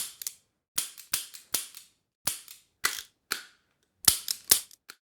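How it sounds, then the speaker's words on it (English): A series of sharp, dry pistol-like shots, about a dozen bangs spaced irregularly with short decaying tails, close and crisp against silence. "Sounds a bit like a pistol."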